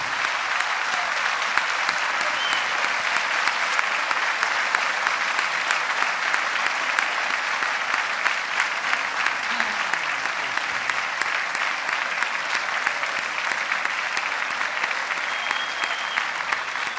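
A live concert audience applauds at a gauchos music show, sustained, dense clapping from a large crowd that holds steady and loud from start to finish.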